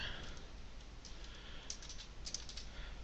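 Computer keyboard typing during a copy-and-paste step in web design work, with soft, quick key clicks over a low steady hum. The sound is close and fairly faint, with no talk.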